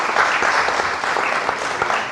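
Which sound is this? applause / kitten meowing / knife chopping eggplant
applause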